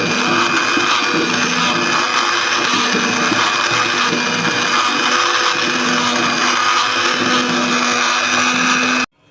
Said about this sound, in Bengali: এরপর হ্যান্ড ব্লেন্ডার দিয়ে আমি খুব ভালো করে মিশিয়ে নেব।